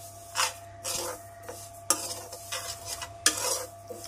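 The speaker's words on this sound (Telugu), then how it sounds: "నువ్వులు 2 కప్పులు నువ్వులు తీసుకొని దోరగా వేయించుకోవాలి" Sesame seeds roasting in a pan on a low flame, stirred in repeated scraping strokes with faint crackle between, close and uneven in rhythm.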